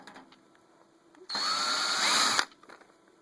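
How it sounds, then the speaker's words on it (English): A cordless power drill whirs steadily for about a second on a computer case being taken apart, starting and stopping abruptly, loud and close in an otherwise quiet room. "I have my drill."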